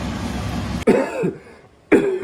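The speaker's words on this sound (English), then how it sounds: "I cannot stop coughing because it's so spicy." Two sharp, harsh coughs close to the microphone, separated by a brief pause, following a moment of background noise.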